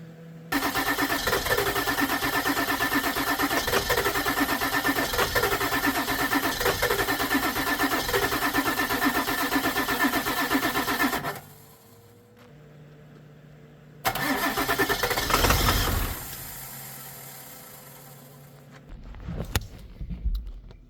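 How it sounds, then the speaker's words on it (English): A Ford 7.3 diesel engine cranks steadily and loudly for about eleven seconds without catching, then a brief quiet stretch before a second cranking burst that fades into mechanical rattling. "It wants to kick over real quick, but not stay running."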